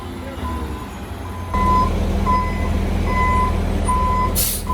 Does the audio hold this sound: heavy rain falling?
no